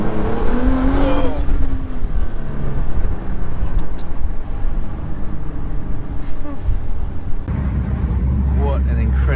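A Nissan GT-R R35 drives hard with loud engine roar, gear changes and exhaust crackle and booms, a voice talking over the car noise.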